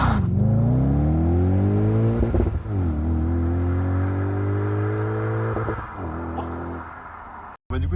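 An Audi S5 V8 revs hard and close, its deep engine note climbing and falling through several long pulls with a brief dip between them and no voices.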